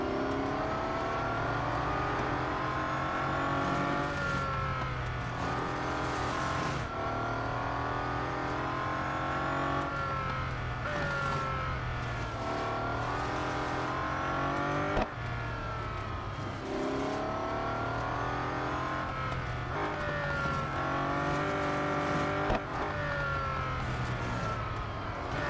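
A Mazda 787B rotary race car roars through a lap in the game Real Racing 3, its engine note climbing and dropping repeatedly through gear changes. The sound is loud, continuous and free of talk.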